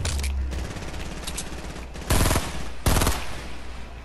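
Burst rifle gunfire in the Fortnite battle royale game rattles in rapid clusters of shots, including two loud close bursts, with no talking.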